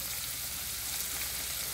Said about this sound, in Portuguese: Nossa calabresa já está fritinha